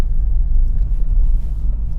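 A Hyundai i10 small city car engine droning while driving, heard from inside the cabin as a steady, close low rumble with no talking.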